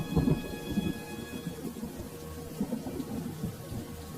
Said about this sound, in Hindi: तभी अचानक फिर से तेज बारिश शुरू हो जाती है।